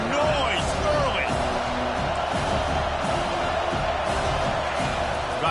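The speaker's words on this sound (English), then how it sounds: "This crowd bringing the energy and noise early." Stadium crowd noise in the college football video game NCAA 25, a continuous loud roar of cheering fans with scattered whoops, running under a commentator's voice throughout.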